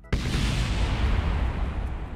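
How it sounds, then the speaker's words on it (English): A rocket's lower stage blows up in Kerbal Space Program with an abrupt, heavy boom that rolls into a loud, rumbling decay lasting a couple of seconds, with no voices. "That explosion was really loud for something so far away."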